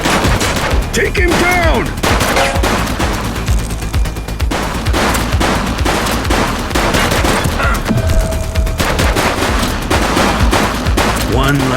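Rapid bursts of gunfire in a police shootout after a bank robbery in a top-down Unity police video game, dense overlapping shots throughout with game music and shouted voice lines mixed in.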